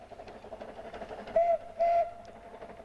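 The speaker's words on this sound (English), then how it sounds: "Across the same mountains, puffing and panting like a breathless pack horse, British Rail's last steam train." A Vale of Rheidol narrow-gauge steam train in the Welsh mountains gives two short, faint whistle blasts over a low background rumble.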